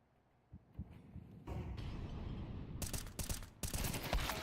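Gunfire rattles in a competitive video game match: a few scattered shots at first, then sustained bursts of rapid automatic fire. Several sharp, loud volleys break out toward the end, all heard without anyone talking over them.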